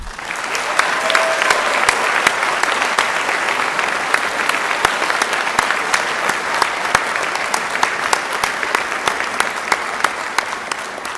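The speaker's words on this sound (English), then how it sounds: "Please join me in giving a warm round of applause for our Monroe-Woodbury High School valedictorian, Veronica Olnicki." Sustained applause from an audience at a high school board of education meeting honoring a Monroe-Woodbury High School valedictorian, steady dense clapping throughout with no talk.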